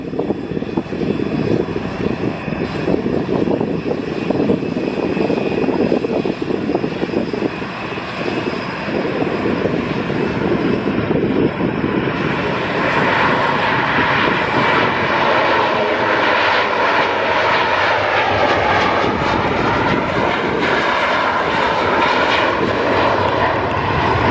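An airliner takes off at Luton Airport on a summer evening, its engines roaring loud and steady throughout, with the tone gradually shifting as it climbs.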